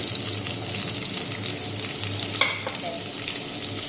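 Chilli and finely chopped garlic sizzle in a pan for chilli prawns, a steady hiss with a few soft stirring scrapes and a brief clatter midway, no speech.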